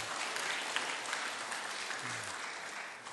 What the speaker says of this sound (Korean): 우리 다시 한번 박수하시겠습니다